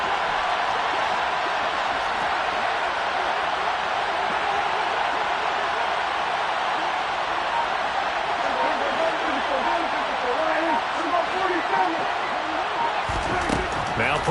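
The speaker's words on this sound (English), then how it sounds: "The crowd getting into it as we come up on a big 3rd down" A football stadium crowd in a video game roars in a steady, loud wash of cheering and noise that swells slightly near the end, with a commentator talking throughout.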